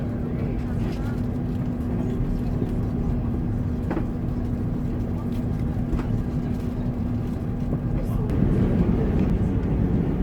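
Inside the cabin of a Thomas Cook Airbus A330-200 taxiing at JFK, a steady low engine rumble and faint whine drone on, with muffled voices beneath.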